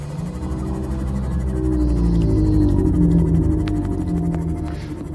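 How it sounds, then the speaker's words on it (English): A reefback leviathan from the video game Subnautica calls underwater: a loud, deep, droning moan that swells and fades over several seconds. Faint clicks and higher chirps from the game sit above it. "that loud sound you hear is one of those Leviathan things. Reefbacks, I think they're called."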